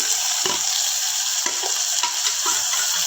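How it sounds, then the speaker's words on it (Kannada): Tomato goes into a pan of fried onions, bringing a loud, constant close sizzle broken by a few scraping stirs of a spatula, with no one speaking. "ಸೊ ಈರುಳ್ಳಿ ಫ್ರೈ ಆಗಿದೆ ಫ್ರೆಂಡ್ಸ್ ಇದಕ್ಕೆ ಟೊಮೆಟೊನ ಆ್ಯಡ್ ಮಾಡ್ತೀನಿ"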